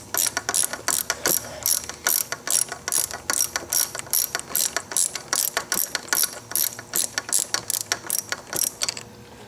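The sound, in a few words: wrench undoing the nut on a Kawasaki ZX6R lever pivot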